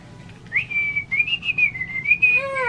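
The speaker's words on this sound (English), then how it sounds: "I used to have to whistle at the boy." A person whistles a long wavering melodic tone at close range, sliding up and down before ending in a few quick rising chirps, with faint household background underneath.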